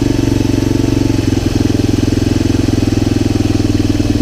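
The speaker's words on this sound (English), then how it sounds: "I'm just turning the idle down a little." Honda TRX250 ATV engine idling after a barn-find repair, a loud close steady chug with a fast, even pulsing rhythm and no voices.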